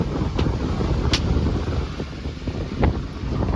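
Strong wind buffets the microphone continuously on a choppy lake with whitecaps on the Trent-Severn Waterway, a loud steady rush with faint splashes and boat noise beneath.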